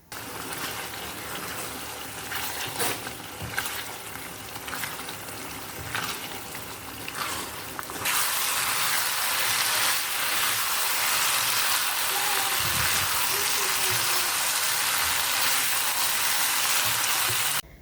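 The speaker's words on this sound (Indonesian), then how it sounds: "Diaduk-aduk, dimasak sampai kuah agak menyusut" Sambal goreng ati ampela with potatoes and chicken liver and gizzard cooking down in a pan while being stirred, bubbling with occasional scrapes, then a sudden loud, steady rushing sizzle takes over for the second half.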